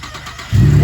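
A totaled Camaro rebuild bought at auction starts by remote start: quiet outdoor air, then the engine catches abruptly and settles into a steady, close idle rumble.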